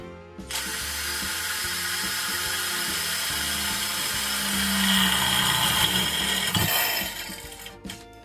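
A Ronix 8018 cordless drill in high gear whines steadily at high speed, its pitch and grind shifting as the bit bores through 1.5 mm steel box tube, then stopping abruptly near the end.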